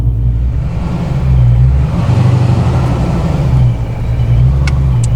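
A car with a 426 engine rumbles loudly and steadily up close as it drives off, deep low exhaust throb swelling and easing through the whole stretch with no talk.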